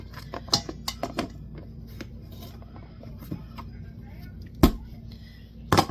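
Dry oats spilling and scattering in a kitchen while a peanut butter oat dessert is mixed: a flurry of light, crisp ticks and patters early on, then scattered taps and a couple of sharper knocks, fairly close.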